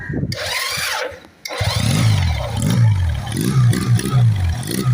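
A Honda CD200 Roadmaster motorcycle with original Japanese parts cranks and catches after a brief pause, then idles and revs repeatedly in loud, rising and falling bursts close by.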